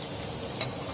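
Capsicum dropped into onions and vegetables frying in a pan for pav bhaji, a soft, close sizzle with a light stir, brief and fairly quiet.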